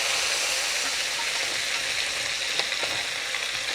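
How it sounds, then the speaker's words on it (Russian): Garlic fries together with chicken meat in a pan, giving a dense, continuous sizzle and hiss with occasional spatters, close and loud throughout. "и обжариваем это все вместе с мясом"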